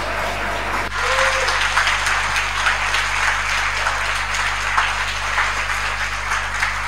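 A conference audience applauds after a speech on education and health: dense, sustained clapping starts abruptly near the beginning and holds at an even, full level to the end, with no talking over it.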